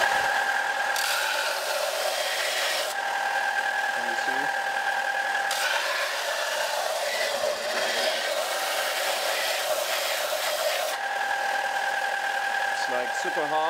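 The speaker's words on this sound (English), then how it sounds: "let's make a little experiment and see how it reacts to a belt sander." A belt sander runs with a steady motor whine and a grinding rasp as it sands a block of hardened hempstone, a hemp-and-water composite, the tone dipping and rising under load at close range.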